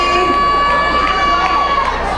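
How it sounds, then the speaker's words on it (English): A crowd cheering at a roller derby championship bout at Rainbow Rink, a steady roar of voices with skaters rolling beneath it and a commentator talking over the noise. "And the crowd's going nuts."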